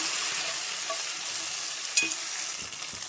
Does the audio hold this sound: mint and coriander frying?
yes